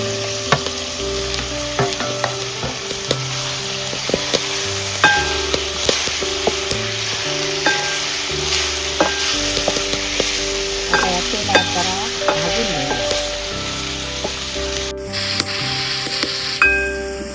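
Pieces of dried baby shark sizzle steadily in oily masala in a Malvani village kitchen, with intermittent stirring scrapes and clinks over a continuous frying hiss, close and fairly loud throughout, no talking.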